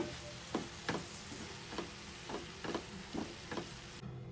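Colocasia leaf curry frying under a lid gives a soft, muffled sizzle with a series of faint, evenly spaced ticks or pops, quiet and alone.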